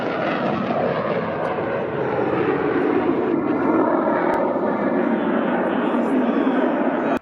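A Saab JAS 39 Gripen fighter jet flies past at the NATO Days airshow in Ostrava, making a loud, continuous roaring rumble that swells slightly midway. A voice speaks over it.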